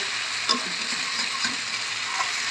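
Chicken cooking with bean seeds sizzles steadily in a pan, a close, soft hiss with light stirring scrapes and occasional pops, no voices.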